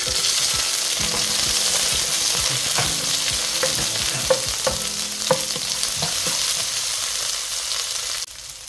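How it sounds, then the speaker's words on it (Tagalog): Garlic and onion sauté in a hot pan with a steady, fairly loud sizzle and intermittent scraping and stirring clicks, the hiss dropping off near the end. "Brown lang po natin yung ating bawang. Isunod na rin natin yung ating sibuyas."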